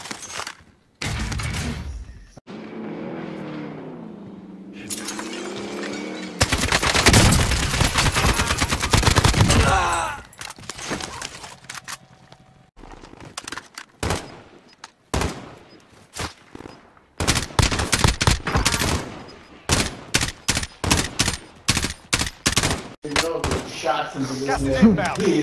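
Gunfire in the Call of Duty video game, scattered loud shots and rapid bursts in uneven clusters, close and punchy, with heavy impacts and players talking in between.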